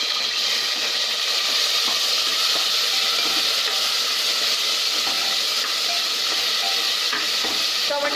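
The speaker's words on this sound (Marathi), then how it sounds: "मी चांगले दोन तीन मिनटं सॉफ्ट होईपर्यंत भाजून घेणार आहे" Curry leaves and a large chopped tomato fry in a pan for a village-style brinjal and potato curry, giving a steady, close hiss and sizzle with light stirring throughout and no talk.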